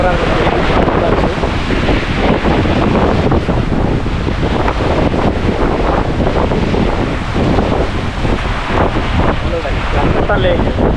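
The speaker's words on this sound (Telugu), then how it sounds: "విపరీతంగా ఉంది ఇక్కడైతే గాలి" Strong, steady wind at a viewpoint in Mahabaleshwar, Maharashtra, roars and buffets the microphone continuously, a dense loud rush that never lets up and masks everything else.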